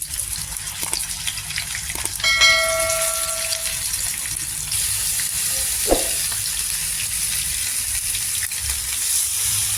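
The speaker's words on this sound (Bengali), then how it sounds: "গ্যাসের ফ্লেমটা আমি একদম লো রেখে আস্তে আস্তে এগুলোকে ফ্রাই করবো।" Bhetki paturi, fish wrapped in leaves, sizzles steadily in hot mustard oil in a frying pan, a continuous close crackling hiss with a brief clink of placement partway through.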